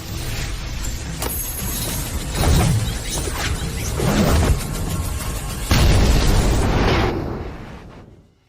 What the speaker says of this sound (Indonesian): Meledak lagi.